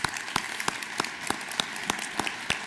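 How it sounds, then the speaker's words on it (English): Audience applause at a state governor's economic summit keynote: a crowd claps in a steady broadband patter with sharp individual claps standing out, moderately loud and continuous for a few seconds, with no talking. "If we can just give her a round of applause"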